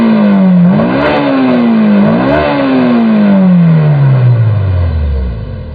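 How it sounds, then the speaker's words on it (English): A Honda S2000 engine revs hard and close, climbing sharply twice in quick bursts, then winding down in a long steady fall toward idle. It is loud and continuous, with no talking. "this is what 120 ponies per liter of displacement sound like"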